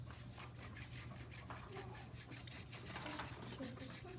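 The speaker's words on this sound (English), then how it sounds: "I'm just going to rub the areas where I feel my leaf underneath" A thick crayon held on its side rubs back and forth over paper laid on a leaf, making soft, close, repeated scratchy strokes at a faint level.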